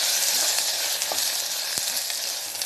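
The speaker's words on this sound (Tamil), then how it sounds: "எடுத்து வச்சுருக்க வெங்காயத்தை போடுவோம். வெங்காயம் நல்லா வதங்கணும்." Onions and cashews frying in a pan for mutton keema cutlet: a loud, continuous hissing sizzle close by, with a couple of faint stirring knocks and no talking.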